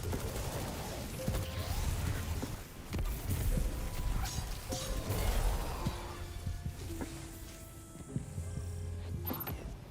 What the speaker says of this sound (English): Purple explosions everywhere.